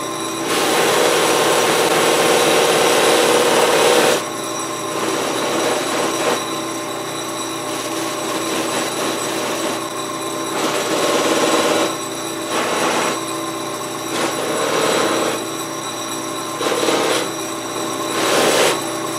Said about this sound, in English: I'm going to just give it a quick hit on the fine buffing wheel, and that'll polish it up quite nicely.